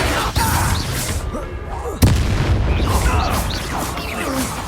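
A Bombarda spell explosion in Hogwarts Legacy: one loud, sharp booming burst in the middle of a continuous roar of combat noise.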